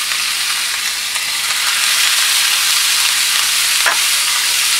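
Beef pieces laid on a very hot pan for a meat sandwich, a loud close steady hiss of frying that holds throughout with a small spit near the end and no talking.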